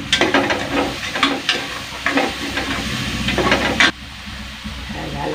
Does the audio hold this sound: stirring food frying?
yes